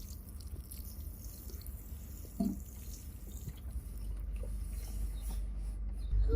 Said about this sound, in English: First up we're going to put some water on the raised bed.